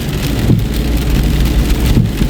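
Steady, dense rainfall pours down with a constant hiss and low rumble, a brief lull in the downpour midway before it resumes, no voices.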